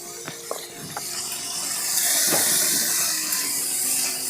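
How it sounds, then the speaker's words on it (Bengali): Prawns frying in a pan with salt and turmeric while being stirred: a few soft scraping clicks early on, then a rising, steady hiss of sizzling that stays fairly quiet and continuous. "এবার চিংড়ি মাছগুলোকে সুন্দর করে নেড়ে চেড়ে ভেজে নেব"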